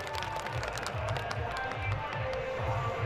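An outdoor crowd at a village wrestling bout claps for a wrestler, Naresh Giri Baba: scattered, fairly distant applause over a low rumble of crowd noise and background talk.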